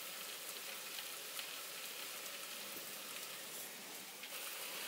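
A big piece of pork carnitas searing in a very hot pan, giving a steady, faint hiss and crackle of sizzling fat that holds evenly with no talk over it.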